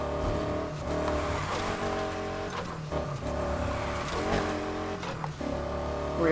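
A low-powered stock starter car in the Need for Speed Heat racing game revs and drifts, the engine droning continuously with repeated surges and dips and bursts of tire squeal, with no talking.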